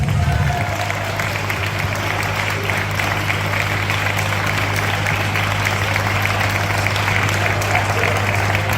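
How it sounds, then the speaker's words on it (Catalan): Loud, sustained applause fills a hall at a senior citizens' carnival party in Vinaròs, a dense steady wash of clapping over a constant low hum that lasts throughout. "aplaudiment"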